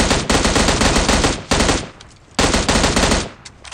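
Loud, rapid automatic gunfire from PUBG Mobile as a player finishes off a knocked enemy, in two long sustained bursts separated by a short pause.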